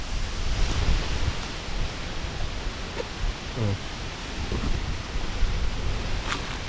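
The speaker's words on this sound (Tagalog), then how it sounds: "Kalakas pa man din po ng hangin." Strong wind rushes and buffets loudly and continuously at a mangosteen harvest area, with a few faint voices and brief knocks in the background.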